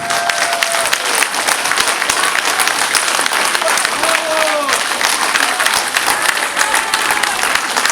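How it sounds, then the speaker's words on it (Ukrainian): Dense, sustained applause from a crowd rewards a band at an outdoor Ukrainian Armed Forces Day celebration in Obukhiv, an even wash of many hands clapping at once with faint voices beneath. "ще оплесків нашим гостям"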